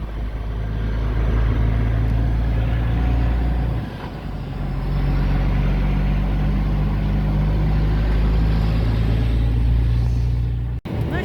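A long semi-trailer truck drives along, heard from inside the cab as a loud, steady low engine rumble and road drone that dips briefly before settling back to an even roar.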